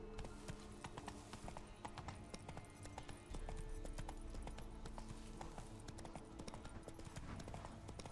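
A horse's hooves clip-clop steadily while riding through a forest in the video game The Witcher 3, a quiet, rhythmic trotting mixed with soft game ambience.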